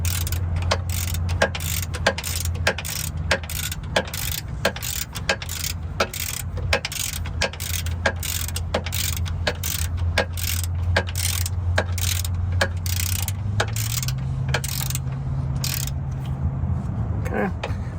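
Rapid ratcheting clicks from a wrench tightening bolts on a Ford Fiesta's rear transmission mount subframe, steady and close for the whole stretch over a low engine-like hum.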